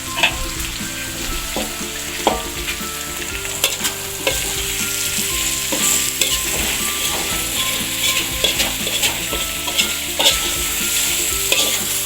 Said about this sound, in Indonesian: Ditumis hingga langu teman-teman.